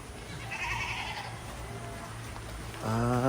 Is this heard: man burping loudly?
no